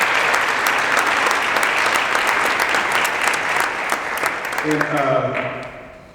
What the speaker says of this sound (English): how about a big hand round of applause for this program